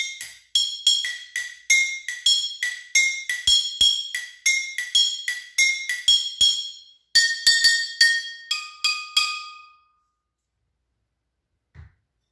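Glass bottles and drinking glasses filled with water struck in turn to play a melody, bright ringing clinks in a quick rhythmic sequence of varying pitches, close and clear, ending in silence with one faint tap.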